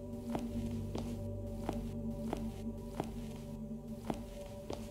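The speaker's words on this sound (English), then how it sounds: "I'm hearing footsteps." Footsteps in a haunted estate video game: a steady series of evenly spaced, moderately loud steps over a constant droning hum, with no talking.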